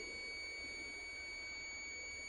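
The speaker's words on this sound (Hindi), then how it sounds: "जैसे मैं इन दो प्राप को मैं आपस में जोड़ूंगा तो आपको बीप सुनाई देगी।" Steady high-pitched tone from a digital multimeter in continuity mode, sounding as its two probes touch while testing a capacitor; one unbroken beep lasting the whole moment, clear and even, with no talk over it.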